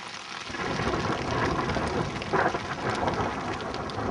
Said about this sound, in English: the hail is really coming down